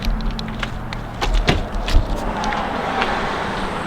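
A truck hauling a salvaged Corvette rolls along the road, a steady low road rumble with scattered rattles and clunks from the load and trailer, close and continuous, no voices.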